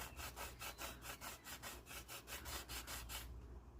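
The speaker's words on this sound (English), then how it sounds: "Grab your sanding block, and just very lightly go over that part." Steady back-and-forth rasping strokes of a sanding block lightly over an epoxy glitter tumbler, about a dozen even passes, close and fairly quiet, ending abruptly.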